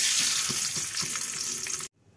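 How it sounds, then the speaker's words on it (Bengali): Eggs frying in hot oil in a pan for egg bhuna, with a loud, close, steady sizzle and soft spattering that cuts off abruptly near the end. "তাই ডিমটা আগে ভেজে নিব"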